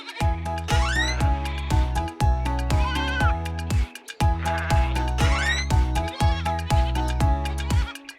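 Sheep bleat repeatedly in quick succession, loud and close, several wavering cries overlapping with short gaps between them.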